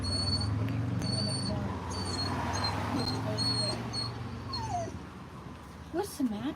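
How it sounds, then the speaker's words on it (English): A dog whimpers and yips at a critter hidden in the bushes, thin high cries coming in short bursts near the end over a steady low hum of outdoor background noise, with people talking nearby. "Are you hearing a dog?"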